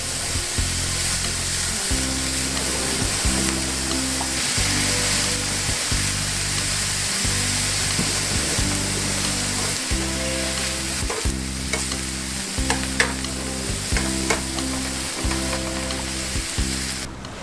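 Brussels sprouts and bacon sauté in a pan while being stirred, a constant dense sizzle under a rhythmic background music track, no talking.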